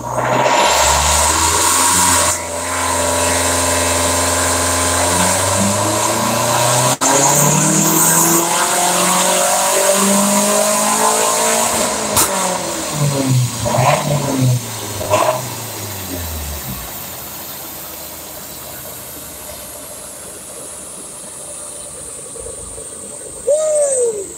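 A 2020 Subaru STI engine revs hard on a dyno and holds high, pitch sweeping up and down repeatedly, then drops off and sputters, ending with a brief shout.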